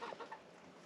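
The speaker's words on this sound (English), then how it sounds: "there's one chicken here sitting on eggs" Broody hen sitting on eggs in a backyard chicken coop, a few faint soft clucks at the start, close by, fading into quiet room noise with no talk.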